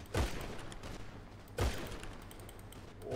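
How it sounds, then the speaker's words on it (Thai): Gunfire in GTA: two sharp, loud shots about a second and a half apart, each with a ringing tail, over a steady low game background. "โอ้โดนยิง"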